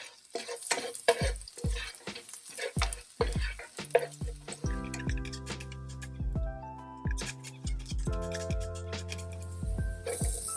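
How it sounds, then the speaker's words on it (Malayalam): Chopped garlic hitting hot olive oil in a pan for an Italian pasta, with a steady sizzle and frying crackle broken by scraping stirs and clinks of a utensil against the pan, close up and with no talking. "ഓയിൽ ചൂടായി കഴിയുമ്പോൾ ഞാനത് ചോപ്പ് ചെയ്ത് വെച്ചിരിക്കുന്ന ഗാർലിക് ആഡ് ചെയ്യുകയാണ്."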